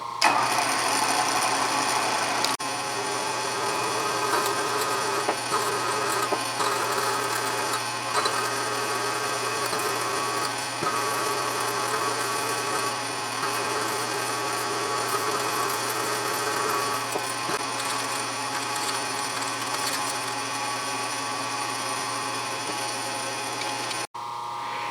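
A drill press runs at very slow speed, boring a 31/64 inch hole on a school-project vise, a steady low motor hum with faint grinding and scraping of the cut throughout, close and even.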